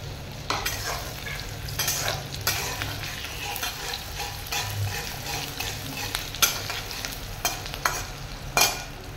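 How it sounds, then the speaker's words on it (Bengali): Chopped onion sizzles steadily in a pan of hot oil while a spatula scrapes and stirs it in repeated bursts, close and clear, with no talking. "পেঁয়াজটা একটু ভাজা ভাজা হলে তারপর রসুন কুচিটা দিয়ে দেবো"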